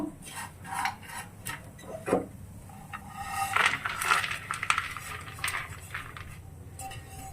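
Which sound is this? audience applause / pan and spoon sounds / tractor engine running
pan and spoon sounds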